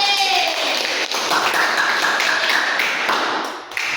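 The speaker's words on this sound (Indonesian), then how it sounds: "Ayo tepuk tangan dulu untuk Dede." Classmates in a school classroom clap for a student stepping up to present group work, a brisk, close patter of hand claps with a brief tonal sound at the start, fading near the end.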